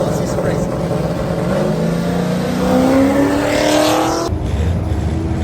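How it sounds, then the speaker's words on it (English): The Rotson race car accelerates hard in a drag and drive event, its engine note climbing steadily in pitch for about four seconds before cutting off abruptly, leaving loud background noise. "The Rotson is competing in a drag and drive."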